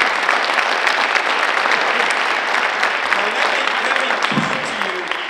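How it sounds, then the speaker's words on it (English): An audience at a university diversity lecture breaks into sustained applause, a dense wash of clapping that stays loud and even before tapering off near the end. "give that movement a round of applause for what it did for our country"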